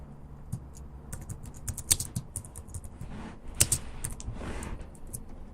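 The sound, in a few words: typing PHP code on a computer keyboard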